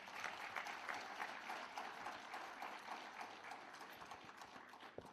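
An audience at a government roadshow on contractor development gives a round of applause, heard as a faint, dense, continuous patter of clapping that fades slightly near the end.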